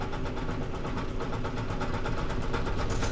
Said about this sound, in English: press the button behind the left hand lever again in the right hand scroll, and it actually pulses